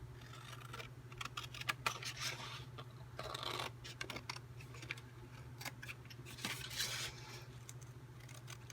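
Scissors cutting material while working on a 2013 Button Farm kit, close and quiet, with a series of small crisp snips and rustles spread unevenly over several seconds over a steady low hum.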